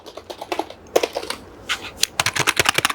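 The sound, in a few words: membrane keyboard typing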